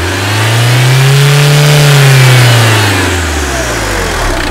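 Land Rover Puma diesel engine revs up as the accelerator is pressed, a loud, close mechanical rise in pitch that peaks and then eases back toward idle over a few seconds, with no talking.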